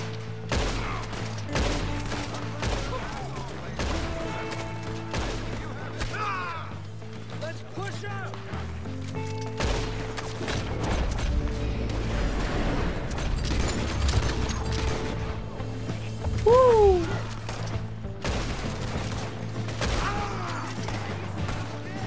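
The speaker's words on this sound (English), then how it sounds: "We're gonna have to shoot the way up there." Scattered gunshots and mechanical clatter from a shootout in Red Dead Redemption 2 sound amid music and game noise, with people talking over much of the action.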